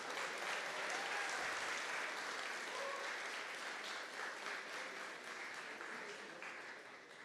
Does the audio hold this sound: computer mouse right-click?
no